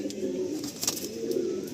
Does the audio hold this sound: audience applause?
no